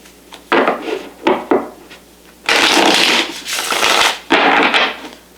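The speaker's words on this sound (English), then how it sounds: "I keep throwing cards." Tarot cards are shuffled and riffled close up in short bursts, a few brief flutters followed by longer, louder shuffles, with no talking.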